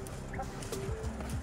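A few soft, low clucks from white snowy quail being let out of their enclosure, close but quiet under a steady background hiss.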